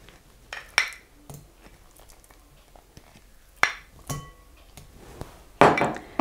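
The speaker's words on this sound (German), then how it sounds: "Wie immer rühre ich zuerst die Butter." Butter is stirred in a mixing bowl for a cake, with scattered clinks and knocks of a utensil against the bowl, sharp irregular strikes over near silence and a louder scraping burst near the end.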